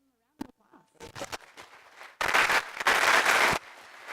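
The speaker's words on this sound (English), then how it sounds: "So let's give him a round of applause." Applause at a science speaking seminar starts in scattered claps, then swells into a fuller burst from the audience before cutting off.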